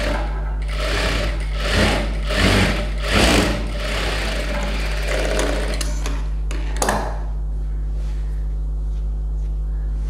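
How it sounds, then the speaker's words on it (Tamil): A sewing machine double-stitches a blouse in several rapid mechanical bursts of stitching, each running a second or so with short pauses between them, close and clear over a constant low motor hum. "ஸோ நான் ஓவர்லாக் போட்டுருவேன், டபுள் ஸ்டிச் போட்டுடலாம்."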